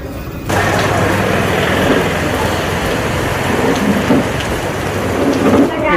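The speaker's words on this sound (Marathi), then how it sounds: "वरतून पाऊस येतो" Heavy rain pours down near a misal eatery in Hadapsar, a loud, dense, steady hiss that starts abruptly after a brief quieter moment and continues unbroken, with faint rumbles beneath.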